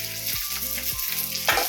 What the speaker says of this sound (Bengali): আর এখানে নিম পাতা ভাজা বসিয়েছি